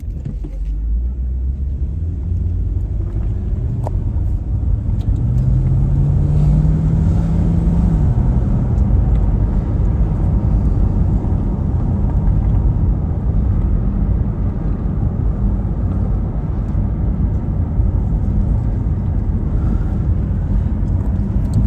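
A Camaro SS RS convertible's engine drones loud and steady from start to finish while the car drives, a deep continuous rumble with a rising tone partway through as it pulls.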